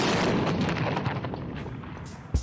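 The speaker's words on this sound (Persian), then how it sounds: "این انفجار با حرکت آهسته است" A thermobaric charge detonates in a weapons test, a massive roaring blast rumbling through a broad, dense wash of sound that slowly decays, with a sharp low thump near the end.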